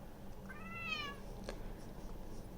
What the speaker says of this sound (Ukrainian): І тут є різні котики, і вони м'явкаються.